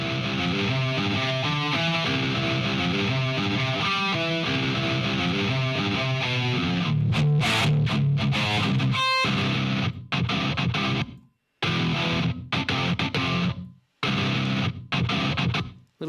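A compressed, distorted electric guitar plays a dense riff, then breaks into choppy stabs separated by short silences near the end.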